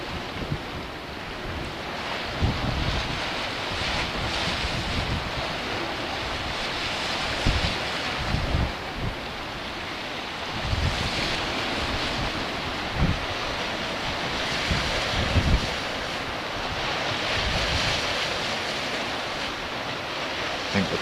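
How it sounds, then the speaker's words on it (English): Waves breaking on the Solway shore at Bowness-on-Solway near high tide, with steady wind buffeting the microphone; a continuous broadband roar with periodic surges of surf, no voices. "I think the tide's at its peak now, or maybe just on the turn."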